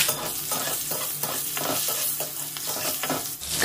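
Green chillies and nigella seeds sizzle and fry in mustard oil in a wok, a steady close crackle with the scrape of a spatula stirring through it, no voices.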